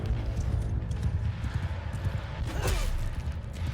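Heavy cavalry and horse archers galloping in a medieval strategy battle game, a dense continuous clatter of many hooves under battlefield din, fairly loud and steady throughout.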